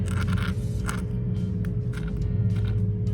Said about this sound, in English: This is the sound of my fingernails scraping against it.